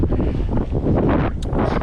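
Strong wind buffets a microphone outdoors on a coastal road trip, giving a loud, continuous roaring rumble with gusty surges and no voices.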